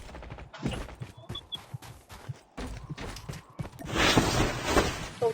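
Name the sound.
gunfire in a video game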